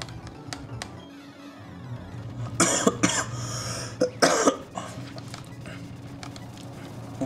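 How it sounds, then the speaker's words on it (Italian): A person streaming a Pokémon Platinum game coughs, two harsh close bursts a second or so apart, with quieter talk and small clicks around them. "se ogni tanto comunque mi senti tossire"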